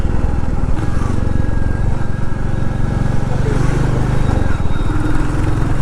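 Royal Enfield Classic 350 single-cylinder engine pulling steadily while riding, a dense continuous low throb with a broad rumble, loud and close throughout without a break.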